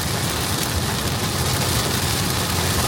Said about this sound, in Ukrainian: Абсолютно нічого не видно. Зливи.